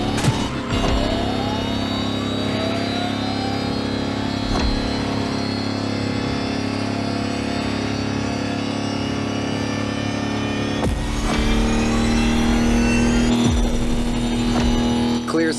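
An electric Lamborghini hypercar drives in The Crew Motorfest, giving a steady whining motor tone with a layered hum that swells near the end, while a voice talks over it.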